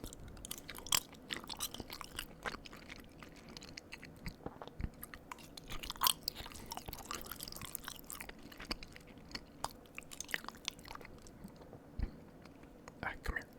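Close, quiet chewing of pasta noodles with kielbasa, soft wet smacks and occasional crisp bites repeating irregularly, with faint whispery mouth sounds throughout.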